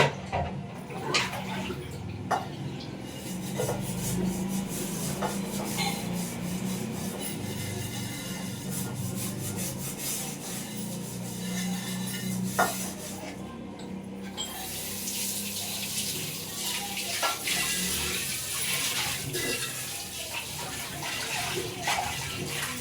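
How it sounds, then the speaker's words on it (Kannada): A frying pan gets scrubbed under a steadily running kitchen tap, with continuous splashing water and intermittent rubbing and scraping close by, no talk over it. "ಇವಾಗ ಬಾಣಲೆ ತೊಳ್ಕೊತೀನಿ."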